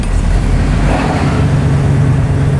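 Pontiac car engine idling nearby, a steady low rumble heard from inside another vehicle with constant road-like drone throughout.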